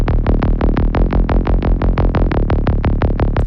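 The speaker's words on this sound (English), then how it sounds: "super dark bass pluck" A super dark drum and bass bass pluck thickened with a vocoder, hitting in a fast, steady run of about twenty loud, distorted notes with no voice over it.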